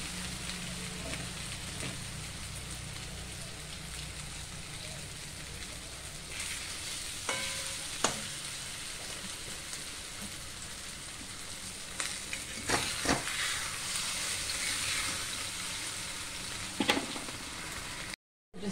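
Two eggs for egg bhurji fry in a pan with a steady, moderately loud sizzle and light crackling, joined by a few clicks and spatula scrapes, then cut off abruptly at the end; no one speaks.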